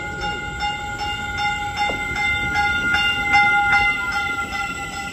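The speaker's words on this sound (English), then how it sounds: "here comes Caltrain 610" Caltrain commuter train 610 rolling through Santa Clara station, a steady rumble with rhythmic wheel clicks over rail joints and sustained high squealing tones, fairly loud and close, with no talk.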